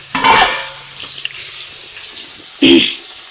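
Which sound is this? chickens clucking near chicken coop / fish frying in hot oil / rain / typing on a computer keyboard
fish frying in hot oil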